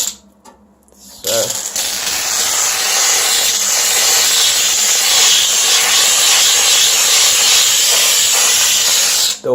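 HomeRight SteamMachine steam cleaner fitted with a nylon brush, blasting baked-on grease with a loud, steady, close hiss that starts after a brief quiet moment and continues unbroken to the end.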